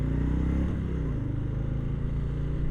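A Harley-Davidson Low Rider S motorcycle accelerates in second gear around 40 mph, its deep engine rumble loud and steady throughout with a slight shift in pitch partway through.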